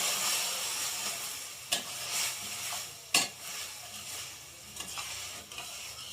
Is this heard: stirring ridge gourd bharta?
yes